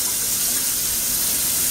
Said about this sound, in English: I'm going to keep on wrenching the rice until the water looks half as decent.